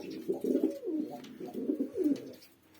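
Purebred Turkish tumbler pigeons coo in a rooftop terrace loft, soft throaty rolling calls repeating in a steady rhythm, close and alone with no talk.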